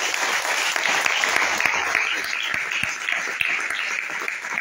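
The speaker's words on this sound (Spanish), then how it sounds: "Un aplauso." Church congregation applauding steadily throughout, a dense, sustained wash of clapping filling the room at fairly even loudness.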